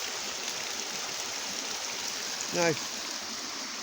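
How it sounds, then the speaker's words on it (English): Brook water pours steadily out of a tunnel and a pipe into a stream, a constant close rushing wash throughout, with someone briefly speaking over it. "Look at the water coming out of the tunnel there, and out the pipe here."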